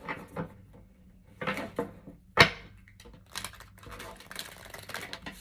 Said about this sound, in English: Two more shuffle.